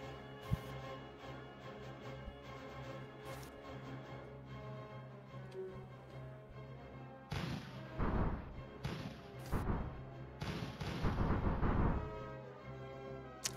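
Artillery firing in the Rusted Warfare strategy game, a cluster of heavy thumps and crashes in the second half, layered over steady ticking game sounds and a droning background.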